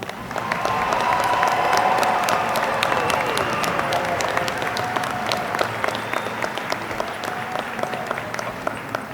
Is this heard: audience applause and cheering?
yes